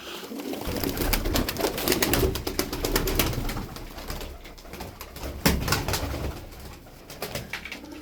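Milk-white Makine tumbler pigeons coo softly and repeatedly, close by, with scattered fluttering and shuffling noises.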